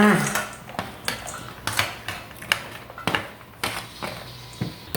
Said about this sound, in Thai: เอาเผือกใส่ลงไปในกระมังเลยค่ะ